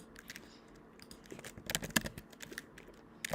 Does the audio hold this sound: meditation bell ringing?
no